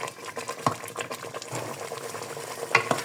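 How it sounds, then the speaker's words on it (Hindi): Khaskhas poppy seed halwa roasting in desi ghee, a close crackling sizzle under busy, rhythmic scraping and stirring with a few sharp ticks of the spoon. "एक मैं घी निकलन तक भुने सा हलवे को"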